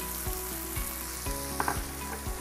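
Çoban kavurma of meat with cumin and pepper flakes sizzling in a pan while being stirred, a steady close hiss with periodic scraping stir strokes and light clinks, no talk.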